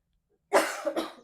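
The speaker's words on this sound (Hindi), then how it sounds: "बीच बीच में तबीयत नहीं ठीक होने की वजह से खांसी की आवाज आ रही है" A single short cough burst from a lecturer who is unwell, close and dry, with a second smaller cough following immediately, then silence.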